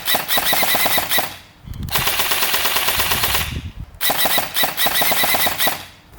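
An HLF ARP9 gel blaster on a 3S battery fires full auto in three long, loud bursts of very rapid, evenly spaced shots, with brief pauses between bursts.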